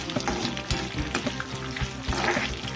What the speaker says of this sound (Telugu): తర్వాత జీలకర్ర ఇలా ఇప్పుడు ఇవి ద్వారగా ఎగుతున్నాయి చూడండి